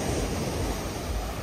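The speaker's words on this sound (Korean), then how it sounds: "아, 이 파도 소리 되게 예쁘게 나네." Ocean waves break on a Busan shore in a brief, steady wash of broadband surf noise, fairly soft and with no voices.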